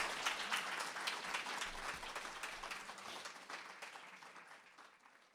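A podcast audience applauds guest author David Treuer at a Writers' League of Texas event, steady crowd clapping that slowly fades in loudness.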